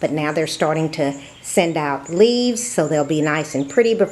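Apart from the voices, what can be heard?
None of the usual background noises is heard.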